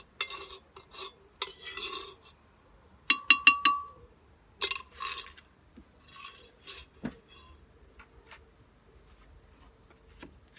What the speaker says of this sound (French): on va mélanger cela à la préparation.